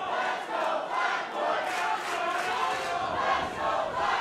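A wrestling crowd at a Limitless Wrestling event roars and shouts continuously, swelling in waves of loud cheering with overlapping voices throughout.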